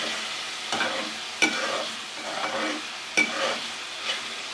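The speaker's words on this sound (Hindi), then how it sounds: "3 से 4 या 5 मिनट तक हम अच्छा सा फ्राई करेंगे, ताकि मसालों का कच्चापन ख़त्म हो जाए" Minced meat (keema) frying with spices in a pan, a steady close sizzle under several sharp scraping stirs spaced a second or two apart.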